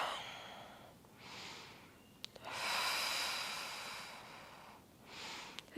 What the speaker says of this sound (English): Deeply breathe into this twist